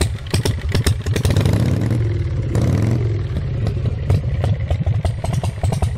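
A 2005 custom chopper motorcycle with a Harley-Davidson-style engine fires up and revs in loud, close bursts, settling into a rough, lumpy idle between throttle blips.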